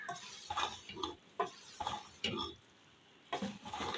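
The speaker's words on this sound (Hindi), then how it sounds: "इसको अच्छे से करेंगे मिक्स।" A spoon stirs and scrapes through a bowl of black chana chaat with boiled potato cubes, several short close mixing bursts separated by pauses, fairly quiet.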